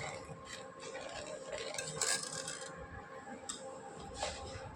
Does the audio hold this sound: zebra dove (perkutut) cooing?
no